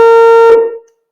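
A single sustained car horn honk, a steady buzzy tone lasting about half a second before cutting off and fading quickly into silence.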